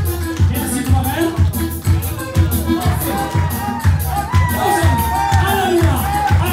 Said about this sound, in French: On applaudit Juliane, s'il vous plaît.